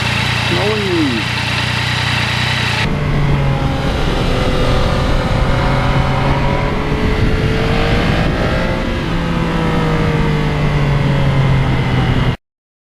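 A 2020 Yamaha MT-09 motorcycle rides along a leaf-strewn street, its engine drone steady and close with pitch rising and falling as the throttle shifts, wind noise alongside, ending abruptly.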